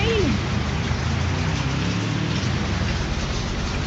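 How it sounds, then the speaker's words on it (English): Heavy rain is heard as a dense, constant hiss with a low rumble underneath, loud and close throughout. "God, why is it gonna stop raining?"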